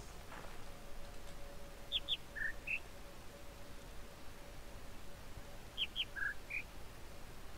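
Two short bursts of bird chirps in the video game The Witness, each a quick run of three or four high notes stepping down, over a soft steady background hiss.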